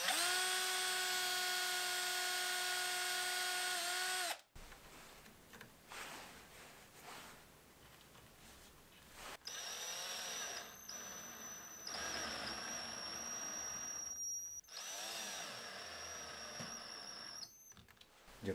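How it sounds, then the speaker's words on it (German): A power drill whines at high speed pre-drilling pilot holes into wooden letters, in several separate bursts with pauses between them, close and fairly loud in a workshop. "Jetzt muss ich natürlich noch vorsichtig hier in die Buchstaben vorbohren, damit sich bloß nicht das Holz beim Eindrehen der Schraube spaltet."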